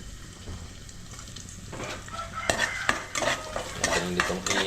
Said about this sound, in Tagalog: Maglagay lang tayo dito ng mantika at saka luya mga bor.